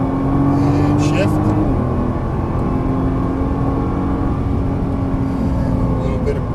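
Nissan GT-R engine droning loud and steady on a race track as the throttle opens, with the pitch of its whine rising then settling, close and continuous throughout.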